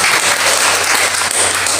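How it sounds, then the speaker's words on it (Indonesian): A group at an apartment worship gathering applauds for a man's 41st birthday, loud, close, continuous clapping with no pause. "Berikan tepuk tangan buat"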